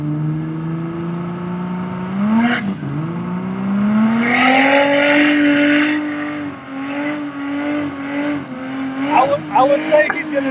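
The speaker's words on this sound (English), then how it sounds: "Let's see if the Comanche's gonna do a big burnout" A Jeep Comanche pickup with a turbocharged 4-liter engine revving hard through a burnout, its engine note rising and holding loud with tire noise, while people talk nearby.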